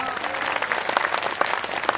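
A crowd at a sholawat religious gathering in Tulungagung claps steadily and fairly loudly, dense overlapping applause throughout with no break.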